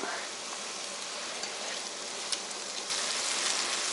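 Meat fries in a pan over rising heat, a faint, even sizzle with soft crackles and a few tossing clicks, growing slightly louder near the end.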